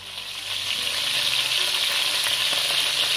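Salted and peppered chicken pieces brown in a hot pan in batches, a loud continuous sizzling and spitting that swells in during the first half second and then holds steady.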